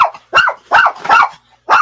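A dog barks loudly and close by, giving four or five quick gruff woofs in a tight burst with a slight growl, and nobody speaks.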